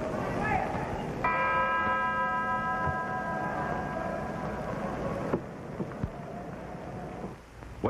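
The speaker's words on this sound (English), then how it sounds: "he moves out at the bell to meet Willi Besmanoff" A ring bell clangs with a sustained ringing tone to start a round in a heavyweight boxing bout, under arena crowd murmur, followed by a sharp knock.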